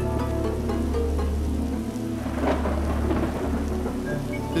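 Thunder rolls over steady heavy rain in a staged storm effect for a TV commercial parody, with deep booms breaking through a constant downpour and no voices.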